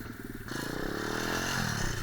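A KXD 612 Pro 125cc dirt bike engine revs up in the snow and holds at a high, buzzing pitch, loud and close, rising steadily over two seconds.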